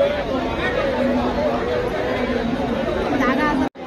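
Dense babble of many passengers talking at once in a crowded train compartment on a Konkan-bound train, a steady, close wall of overlapping voices that cuts off abruptly just before the end.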